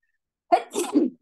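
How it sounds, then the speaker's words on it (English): After a moment of silence, a single loud, close sneeze bursts out, a quick intake followed by a sharp explosive release. "Sorry, I'm gonna sneeze."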